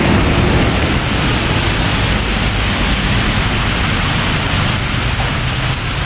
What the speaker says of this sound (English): It is not a small rain, it is a heavy rain.